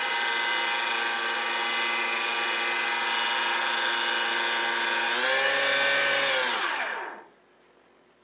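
TJ100HP electric ducted fan on a model L-39 jet running at a steady, loud high-pitched whine, then spooling down and fading out toward silence over the last couple of seconds.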